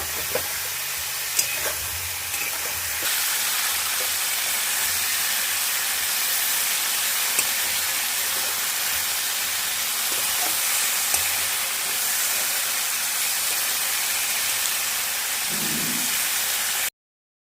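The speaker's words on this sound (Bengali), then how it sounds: "এবার ফুলকপিগুলো আমি লাল লাল করে ভেজে নেব।" Cauliflower pieces seasoned with salt and turmeric fry in a pan, giving a loud, steady, close sizzling hiss that runs unbroken for the whole stretch with no talking.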